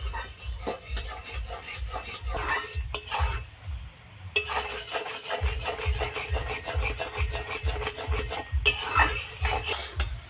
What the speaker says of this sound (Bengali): দুধটাকে কিন্তু খুব ভালো করে নাড়িয়ে চাড়িয়ে ঘন করা লাগবে